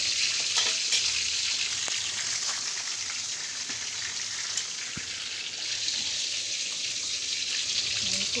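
Fish frying in hot oil, a steady close crackling sizzle with scattered sharp pops and spatters throughout, no voices.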